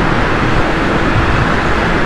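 Dense, steady roadway rumble surrounds a Triumph Speed Triple 1050 motorcycle in traffic, a loud, continuous low-heavy wash of vehicle and wind noise with no distinct events.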